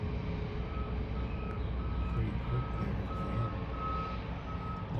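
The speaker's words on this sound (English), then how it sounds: "This truck's backing up." A truck backing up near a cargo derrick ship emits a steady series of reversing beeps, evenly spaced over a loud, constant engine rumble, with brief talk faint underneath.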